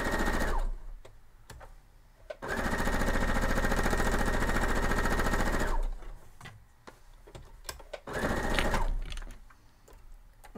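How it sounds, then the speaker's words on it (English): A sewing machine stitches quilt fabric pieces in two long bursts of steady, fast mechanical whirring, close and loud, with pauses between filled by clicks and handling noises. "I'm just going to sew that real quick."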